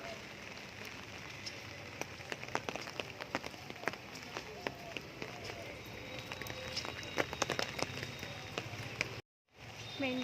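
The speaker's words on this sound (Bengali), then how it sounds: "এই যে কেমন বৃষ্টি পড়ছে দেখো, পুকুরটার দিকে দেখলে বোঝা যাবে ভালো।" Rain falls steadily on a pond, a soft continuous patter scattered with sharper drop ticks, fairly faint and even throughout, with a brief dropout near the end.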